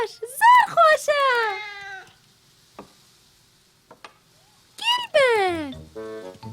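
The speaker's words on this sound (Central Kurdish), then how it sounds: "پشیلەیەکی بێزارکەرە" A cartoon cat named Gilbert gives two drawn-out, wavering meows, separated by a quiet gap with faint clicks. The voiced cries are up close and clear and there is no background talk.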